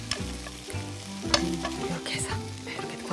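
Marinated pork jowl fries in a generous layer of oil in a pan, a steady close sizzle with crackling pops and the scrape of stirring running throughout.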